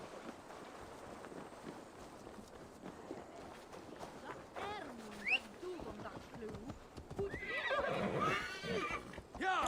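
A horse in a video game whinnies several times over the clatter of galloping hooves, the neighs rising toward the end and mixed with game sounds.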